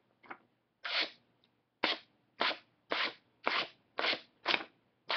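A spring-assisted stiletto pocket knife snaps open and shut again and again, about eight to nine crisp, loud metallic clicks at a quick, fairly even pace, close up in a quiet room.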